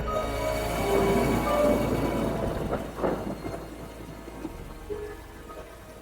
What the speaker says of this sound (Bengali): এই মুসল ধারায় বৃষ্টি অসহ্য লাগছে আমার